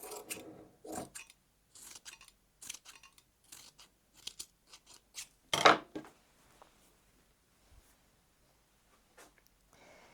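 Scissors trimming quilt fabric for an inside-out scrap quilt, a series of short crisp snips at irregular intervals with quiet gaps, close up, one louder cut near the middle, no talk.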